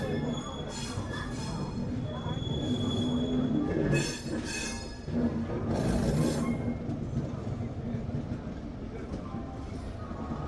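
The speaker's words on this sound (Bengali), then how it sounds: "13037 হাওড়া দেরাদুন কুম্ভ এক্সপ্রেস হাওড়া স্টেশনের 11 নম্বর প্ল্যাটফর্ম থেকে ছেড়ে বেরোলো" The Howrah–Dehradun Kumbh Express pulls away from platform 11 at Howrah station, a steady rumble of rolling train with squealing wheels and clattering rail noise, busy platform voices faintly underneath.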